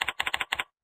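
Quick keystrokes on a computer keyboard, about seven crisp clicks in two short bursts, close and clear, ending abruptly in silence.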